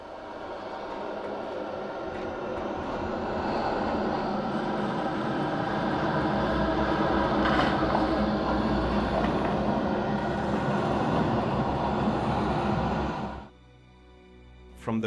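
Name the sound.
bat sound effect from a video game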